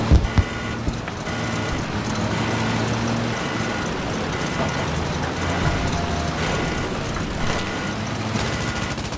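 Vehicle driving in Battlefield 5, a steady mechanical engine rumble with clattering and scattered gunfire in the background, loud and continuous throughout with a brief sharp burst near the start.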